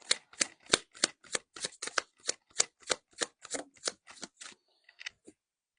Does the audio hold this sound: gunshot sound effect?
no